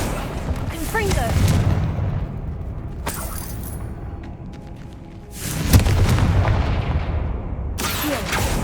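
Confringo fire spell blasts in the Hogwarts Legacy video game, two heavy booming bursts landing a few seconds apart over a continuous rumbling game soundscape with voice talking underneath.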